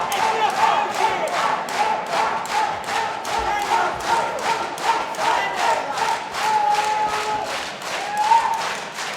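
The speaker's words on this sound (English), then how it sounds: "Hometown crowd getting hyped for Ahmala." Hometown crowd at a CAGE 54 MMA event roars and chants in rhythmic, pulsing waves, loud and continuous throughout, with a steady beat of collective shouts and claps filling the arena.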